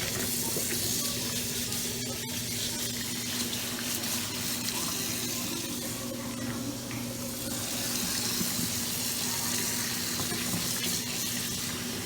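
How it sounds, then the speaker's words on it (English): Cold tap water runs steadily and splashes into a sink over crab legs being rinsed for several seconds, a constant close-up rushing hiss with a faint background hum. "really quickly rinse out my crab legs with some cold water"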